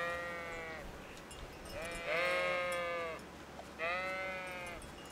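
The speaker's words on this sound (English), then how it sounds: "we're going to rally these sheep over here" Sheep in the medieval game Kingdom Come: Deliverance bleat several times, three wavering drawn-out calls at moderate distance over a steady low ambient hum, with no talking.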